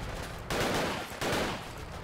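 Gunfire in the video game Fallout 4, two loud heavy bursts of shots about a second apart over a steady background of combat noise.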